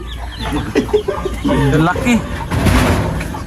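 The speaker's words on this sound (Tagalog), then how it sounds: "Lalaki na manok." A rooster crows loudly nearby, with clucking and a person's voice mixed in around it.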